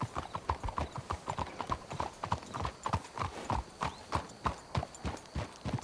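Horses trotting in the Red Dead Redemption 2 video game, a steady rhythmic clip-clop of hooves on a dirt trail, close and continuous with a brief whinny.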